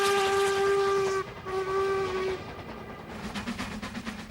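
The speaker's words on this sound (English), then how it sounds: "One bonus for me on this line is the sight of my favourite steam engine of all" Stanier Black Five steam locomotive sounding a loud, sustained steam whistle in two long blasts, followed by the rumble and hiss of the engine on the line.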